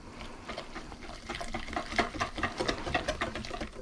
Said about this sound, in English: now we're just going to whisk everybody together